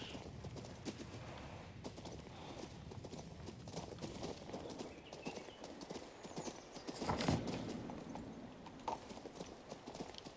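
Rhythmic clip-clop of a horse's hoofbeats while riding in the video game King's Bounty II, steady and fairly close throughout, with a brief whinny partway through.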